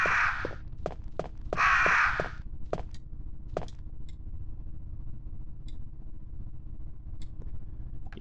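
Two harsh crow caws ring out in the Resident Evil game, loud and close, over a low ambient hum, followed by scattered clicks and taps.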